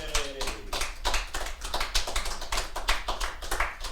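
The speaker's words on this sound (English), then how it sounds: "The rapturous sound of applause." An audience at a live performance in a senior living venue applauds, with dense, rapid clapping that stays loud and continuous for about four seconds.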